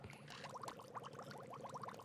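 Water pours onto a plant in a planter in the LEGO Harry Potter: Year Two video game, a faint, steady splashing trickle lasting about two seconds.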